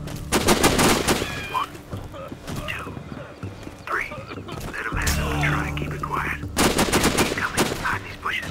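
Suppressed rifle shots and bursts of gunfire from the Sniper: Ghost Warrior video game, several sharp reports clustered at the start and again near the end, with game ambience and low rumble between.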